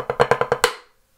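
Snare drum playing choo-choos, a rudiment of six crisp strokes at an even, fast pulse, the last one accented, then a short ringing decay, loud and close.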